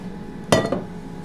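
Pots and pans knock together in a kitchen, one sharp metallic clink followed by a brief ringing rattle, close and alone over quiet room tone.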